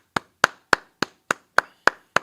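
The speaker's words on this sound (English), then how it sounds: "Go ahead, clap it up." Eight sharp, evenly spaced hand claps in a steady rhythm at a Tuesday brotherhood class in Houston, close and crisp with short gaps of quiet between them.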